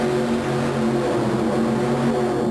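An alcohol-burning, Chevrolet-engined Austin Bantam mud racer at a USHRA event holds a steady, loud high-rpm engine drone, dense and continuous with no talk over it.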